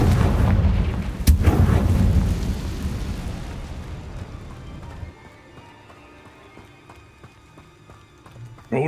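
The Confringo fire spell in the game Hogwarts Legacy, a loud booming blast at the start followed by a sharp crack and a long rumbling decay that fades over several seconds, amid game sounds.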